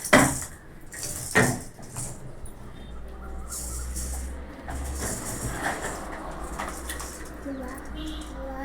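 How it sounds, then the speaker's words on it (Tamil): Moringa leaves sizzle and scrape in a pan as they are sautéed, with a spoon clinking against the metal now and then, over a steady low hum. "நல்லா வதக்குங்க. நல்லா வதக்கிக்கலாம்."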